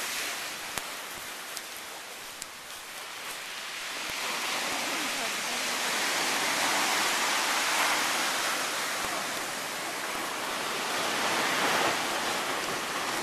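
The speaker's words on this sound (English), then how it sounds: "Oh, the waves are getting angry now." Surf breaking and churning at a lava ocean entry, a broad continuous roar that swells and builds louder over the span, with no clear voices.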